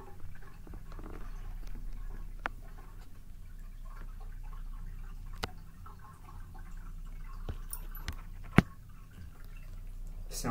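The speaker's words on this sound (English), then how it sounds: "The sounds of water." Water drips in slow, scattered single drops, sharp and separate over a low, steady rumbling background, with one louder drop standing out near the end.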